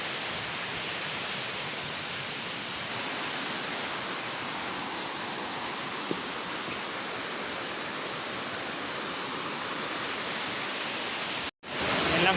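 Steady, loud rushing water of a strong river current roars without pause in the rain, a dense wash with no voices, cut briefly near the end.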